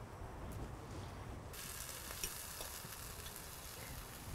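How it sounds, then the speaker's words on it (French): Burger buns toast in butter in a frying pan with a quiet, steady sizzle that brightens and grows hissier after a moment, heard alone without talk. "Là, je vais retoaster mes buns en mettant un peu de beurre comme ça sur la poêle."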